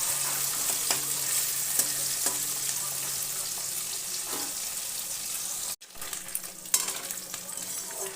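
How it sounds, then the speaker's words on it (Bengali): Mourala fish frying at medium heat in hot oil, giving a steady, close sizzle that runs nearly unbroken, briefly cut off once before resuming with some scraping and stirring. "বাকি মাছগুলো একইভাবে ভেজে উঠে নেব।"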